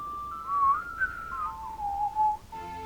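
A melody from the Zelda game Majora's Mask is whistled clearly and alone, a slow sliding line of a few sustained notes over a quiet background, ending with a brief tonal sound.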